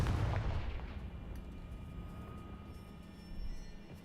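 A Confringo spell explodes in Hogwarts Legacy with a loud, deep boom that rumbles and slowly fades, leaving a low lingering roar.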